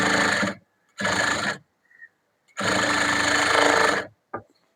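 A sewing machine stitches a seam a quarter inch in on blouse fabric, running in three loud, close bursts of rapid mechanical whirring with short silent pauses between them and a brief tap at the end.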